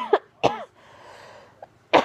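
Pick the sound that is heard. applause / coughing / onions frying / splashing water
coughing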